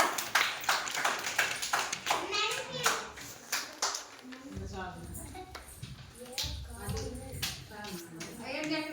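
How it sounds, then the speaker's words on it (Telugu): Schoolchildren clap their hands in class in a quick series of sharp claps, mixed with children's voices and a teacher talking nearby. "Very good. క్లాప్స్ కొట్టండి."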